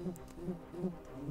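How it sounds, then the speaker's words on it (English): Insect-like buzzing of bees in the airship combat game Airships: Conquer the Skies, a low droning hum pulsing in short, regular waves close by. "Not the bees! The bees are coming."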